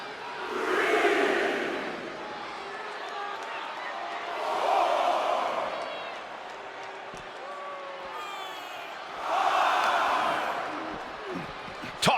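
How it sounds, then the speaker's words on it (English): Arena crowd in the WWE 2K24 wrestling game, swelling roars and cheers that rise and fall in three waves with chanting between, moderately loud and unaccompanied by commentary. "The crowd is fired up."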